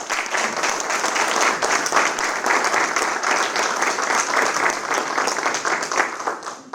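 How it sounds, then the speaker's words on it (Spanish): Audience applauding at a labor movement history talk, sustained, dense clapping from many hands that stays loud and even throughout, with no speech over it. "los saludamos con nuestro aplauso"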